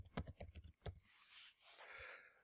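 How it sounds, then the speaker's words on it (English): Quick bursts of keystrokes come from a computer keyboard close by, a rapid run of clicks in the first second followed by soft rustling and one last tap. "It's as simple as typing on top of the banner."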